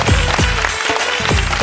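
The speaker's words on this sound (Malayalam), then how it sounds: "നല്ലൊരു കൈയടി കൊടുക്കണം അല്ലേ?" An audience at a televised comedy show claps in a brief, dense burst of applause, loud and close, with many hands overlapping continuously.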